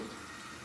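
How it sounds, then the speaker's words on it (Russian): Water gushes from a bathtub mixer tap with a rain shower head, opened fully, making a steady, even rush of running water close by with no pauses. "Открываю кран на максимум."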